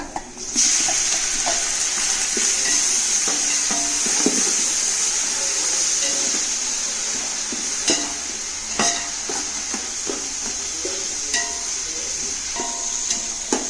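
Ground ginger-garlic paste fries with onions in a pan for mutton biryani, giving a continuous bright sizzle broken by scattered clinks and scrapes of stirring.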